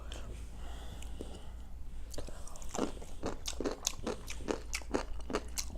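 Crunchy chewing of Korean banchan with wakame, heard up close as a run of sharp, evenly spaced bites and crunches over a low background hum.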